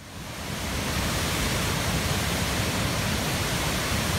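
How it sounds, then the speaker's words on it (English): Roaring waterfall on the Tuolumne River in Yosemite: a steady, dense wash of falling water, loud and close, swelling in during the first second and then holding constant with no voices. "This is really a phenomenal waterfall."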